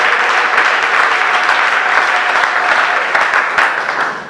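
A church congregation bursts into sustained applause to acclaim the Lord during a French-language sermon, a dense, steady wash of clapping that holds loud throughout with no talk over it.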